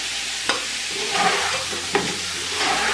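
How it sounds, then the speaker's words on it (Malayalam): Crushed green chilli is stirred into a frying pan while cooking kabsa, giving a steady close sizzle with a few sharp scrapes of the spoon. "ഇനി ഇതിലേക്ക് പച്ചമുളക് ക്രഷ് ചെയ്തതിട്ട് ഇളക്കി കൊടുക്കാം."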